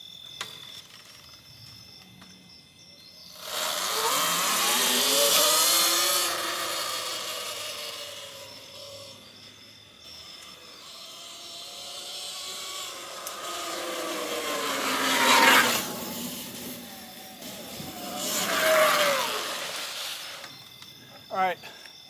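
An E Ride Pro SS electric motorbike being ridden at night, its motor whine climbing and falling in pitch over two long runs with rushing wind-like noise, heard close while someone talks.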